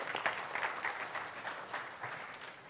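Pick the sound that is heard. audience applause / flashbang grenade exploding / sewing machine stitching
audience applause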